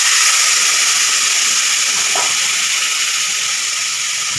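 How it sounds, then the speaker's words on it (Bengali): Bowl-rinsing water poured into a hot pan of chicken kosha on high heat, a loud, steady sizzling hiss that holds throughout with a brief splash partway through. "বাটি ধোয়া একটু জল দেব।"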